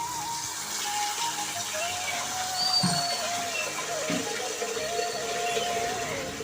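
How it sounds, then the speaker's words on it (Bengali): Tap water runs into a pot for cooking rice in a home kitchen, a steady close splashing fill with faint background voices. "টাইম কলের জলটা আমি নিয়ে নিলাম কারণ ওই যে ভাত করব"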